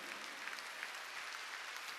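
A church congregation at a Wednesday service claps together in a steady, even wash of sound that stays faint and distant throughout, with no voices over it.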